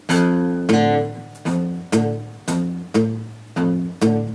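Repeated plucked guitar chords with a string muted underneath, about eight in a steady rhythm, each ringing briefly and decaying, close and clear with no talking.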